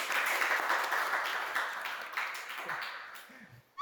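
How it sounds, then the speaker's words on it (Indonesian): Crowd applause for new Paskibra flag-troop members during a school podcast in Cibinong, a dense steady clatter of clapping that thins slightly toward the end, fairly close and without talk over it. "Oke, tepuk tangan dulu dong guys."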